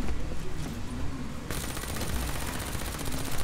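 Rapid automatic gunfire in Call of Duty: Black Ops III, a dense continuous rattle of shots that grows harsher and louder partway through, close and sustained without pause.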